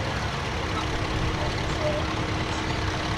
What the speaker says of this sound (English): one of the bigger David Browns, a 1212, which from memory was about 72 horsepower